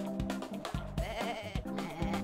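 Sheep bleating in the video game Looney Tunes: Sheep Raider, several short cries in quick succession over busy game music and effects, fairly loud and close.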